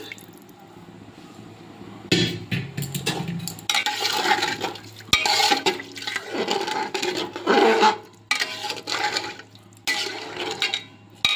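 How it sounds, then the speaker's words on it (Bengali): Measured water, ten cups for five cups of rice, is poured from a basin into the pot for pea pulao, in several loud splashing, gushing bursts separated by short pauses. "এর জন্য 10 কাপ জল দিয়ে দিচ্ছি"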